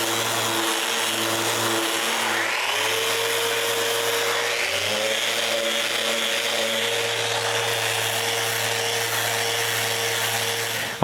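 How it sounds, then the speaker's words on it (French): A steady electric sander sanding a wooden bandsaw hums and whirs loudly up close, its pitch shifting slightly a couple of times as it works, continuous with no speech. "La première chose que je fais, là, est de tout sabler"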